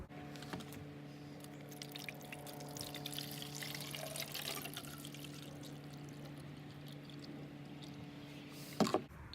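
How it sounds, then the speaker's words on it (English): Water poured into a Nerf Super Soaker DartFire blaster's reservoir, a quiet, steady trickle and splash running for several seconds over a low background hum, ending with a brief louder knock. "You just pop the cap off here and just pour in the water."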